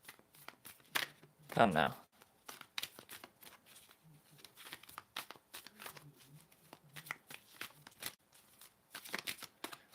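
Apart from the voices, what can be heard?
tarot cards being shuffled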